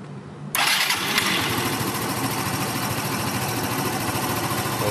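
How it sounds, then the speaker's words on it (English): A stock Yamaha BWS Zuma 125 scooter with an air filter and CVT kit starts abruptly after a quiet moment, then settles into a loud, buzzing, steady idle close by. "so now let's go ahead and start the scooter."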